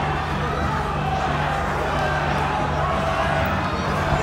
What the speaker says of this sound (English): The crowd really getting behind both fighters here.